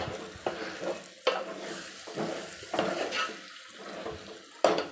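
Spoon scraping and stirring through ridge gourd palya in a pan, several distinct scrapes and clanks over a soft sizzle, close and moderately quiet.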